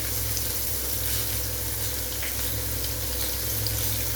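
Paneer pieces frying lightly in a pan, a steady, even hiss of sizzling oil at moderate volume, continuous throughout with no voices.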